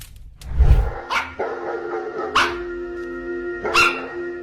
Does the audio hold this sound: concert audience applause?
no